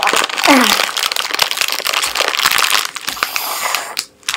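Loud, close crinkling and tearing of a plastic bag of sour gummy loop candy being opened, a busy run of rustles and crackles lasting a few seconds.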